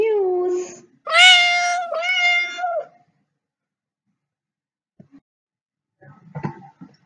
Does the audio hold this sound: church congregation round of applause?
no